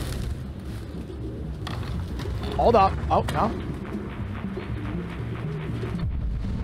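Pigeons coo briefly in the Detroit: Become Human video game, a short soft burst rising over a steady low ambient rumble while someone speaks a few words.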